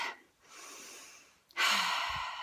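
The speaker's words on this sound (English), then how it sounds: "take a breath in and a breath out" A slow breath in followed by a longer, fuller breath out, both close and clear during a quiet guided meditation, with a brief pause between them.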